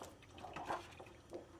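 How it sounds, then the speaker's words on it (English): Tap water runs over a plastic face shield of a snap-together protective equipment system being rinsed under a faucet, a soft continuous splash with small bright drips and shifts, steady and close with no voices. "Under running water, rinse the face shield."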